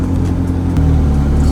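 A McLaren 600LT pulling away, with a loud, close engine drone that deepens and strengthens partway through as the car moves off, with no talk over it.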